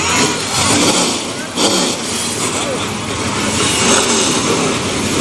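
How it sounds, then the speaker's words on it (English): Race car engines fire up on the pit lane at a Grand National Series night race, a loud broad rumble of several motors running together with revving swells, under a public-address announcement. "Gentlemen, start your engines."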